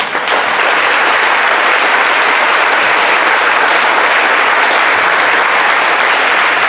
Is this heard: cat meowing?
no